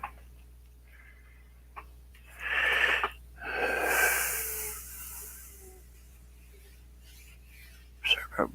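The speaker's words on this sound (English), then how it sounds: "Sorry about breathing in the mic." Heavy breathing sounds close into a microphone during a live cork and paper painting session, with two long breathy gusts in the middle and soft taps and small sounds around them.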